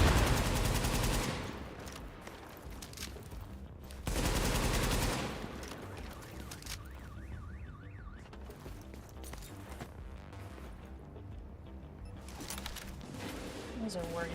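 Bursts of rapid automatic fire from a hard-kicking gun in a video game crackle loudly in two long runs, with quieter game noise between and a voice talking over parts of it.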